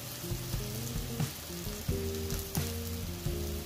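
Burger patties with jalapeno, onion and minced garlic sizzle on a hot flat top griddle, a steady close frying hiss with occasional louder pops and crackles, no talking.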